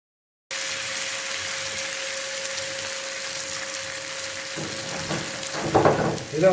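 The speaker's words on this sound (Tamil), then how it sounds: "இப்போ எண்ணெய் காஞ்சதுக்கப்புறம் நம்ம உருளைக்கிழங்கு எடுத்து பேனில் போட்டுக்க வேண்டியதான்" Potatoes dropped into hot oil in a pan for a mushroom biryani feast, giving a steady broadband frying hiss that swells into louder bursts of sizzle near the end, with no talking.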